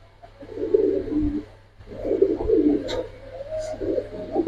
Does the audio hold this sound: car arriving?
no